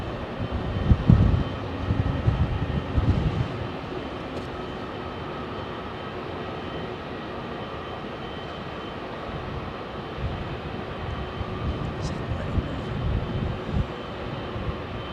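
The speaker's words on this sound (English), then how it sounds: "American 777-300 bound for JFK." American Airlines Boeing 777-300 departing Heathrow runway 27L for JFK: a broad distant jet engine roar, strongest early and then settling into a steady rumbling drone that fades slightly, with no talking.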